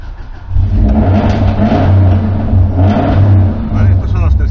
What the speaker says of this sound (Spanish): Vamos a arrancar primero el coche. Quiero que escuchéis.